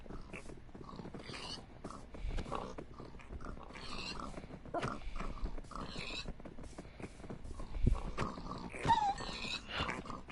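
Minecraft wolves in the video game giving repeated short growls, snorts and barks in an irregular, busy pattern, close and moderately loud, mixed with other animal and game noises.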